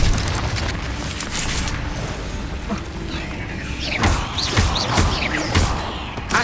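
The Incendio fire spell going off in Hogwarts Legacy on PS5, a run of loud booming blasts and crackling bursts over dense, busy game noise.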